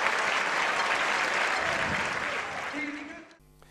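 Stadium crowd applauding a football player during a match, a broad steady ovation heard at a distance that fades out near the end.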